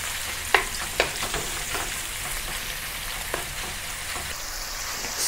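Marinated beef sears in a single layer of oil in a wok, a loud, continuous close sizzle with a few sharp spatters and taps early on and no talking.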